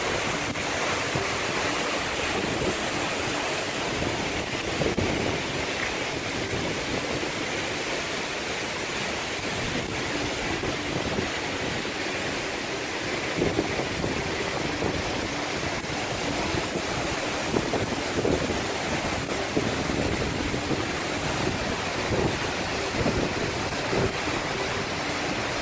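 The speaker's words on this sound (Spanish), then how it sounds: "Esta es la catarata" A waterfall in Ubud, Bali roars as a dense, steady wash of falling water, loud and unbroken throughout with no talking.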